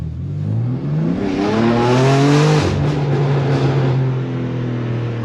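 BMW G80 M3 revving hard in first gear, a loud close engine note climbing in pitch, briefly dropping at a shift point, then holding a steady high drone with a raspy exhaust edge.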